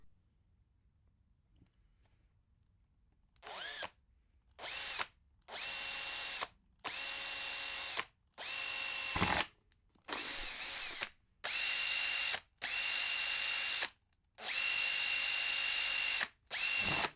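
Holes being drilled into a KTM Duke's stock exhaust for rivets: a power drill whines loudly in eight or nine separate bursts of a second or two each, with short pauses between, after a few seconds of near silence.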